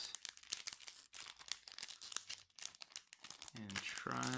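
A Yu-Gi-Oh! Star Pack Battle Royale booster pack's foil wrapper crinkles and is pulled and torn open in quick close crackling bursts, with a voice talking at the end.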